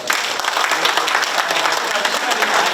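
Audience at a political seminar in a hall claps together in a dense, sustained round of applause, loud and close, with crowd murmur beneath and a few brief dips in the clapping.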